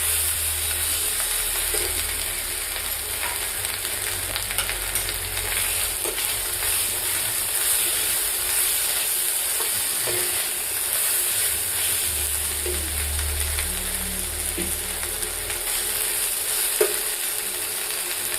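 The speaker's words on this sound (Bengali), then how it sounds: "এবার মশলাটাকে ভালো করে কষাতে হবে" Mustard paste with salt frying in oil for folui fish curry, a constant dense hiss of sizzling fat with occasional soft scrapes of a stirring spoon, close up and uninterrupted.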